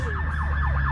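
A police siren wails close behind a Dodge Hellcat, its rising and falling sweeps loud over the low rumble of the car.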